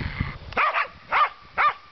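Muddy dogs bark three times in quick succession, each bark a short sharp burst close by, preceded by a scuffle of rustling and lower noise.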